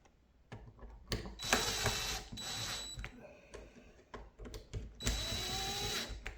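Screws on a Kwikset front door handle get tightened with a power driver, several short whirring bursts separated by brief pauses and small clicks of metal hardware, close and moderately loud.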